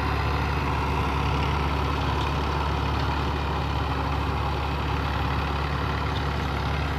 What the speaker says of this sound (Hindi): सिंपल ट्रैक्टर है।